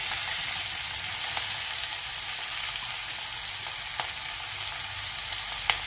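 Onions, mustard seeds, curry leaves and green chilies fry in hot oil with a steady, close sizzling hiss throughout, broken by a few faint clicks of stirring.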